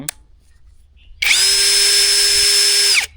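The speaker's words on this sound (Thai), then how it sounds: "อ่าตัวนี้ก็จะหมุนเร็วขึ้น เหมาะกับการเจาะนะฮะ" A Masaru cordless three-mode drill with a detachable head, set to speed 2, whirs up after a quiet pause and spins steadily at high speed, loud and close, then stops abruptly.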